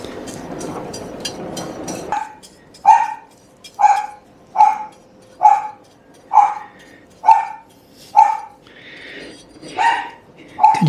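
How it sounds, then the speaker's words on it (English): A dog barks repeatedly in a steady rhythm, about one bark per second, fairly close and loud, after a short burst of rustling noise. "Can you hear Maya barking?"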